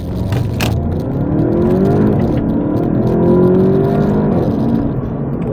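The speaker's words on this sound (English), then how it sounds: "So how does the Golf GTI accelerate?" A 2023 VW Golf GTI with a 2-litre engine accelerating hard: a loud, close engine note climbing steadily in pitch through the gears with a shift in the middle, heard from inside the car.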